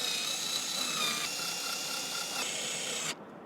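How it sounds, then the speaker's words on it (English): A power driver runs steadily for about three seconds, driving screws back into the third brake light and cargo light housing of a Ford Maverick pickup, then cuts off abruptly. "put the screws back in"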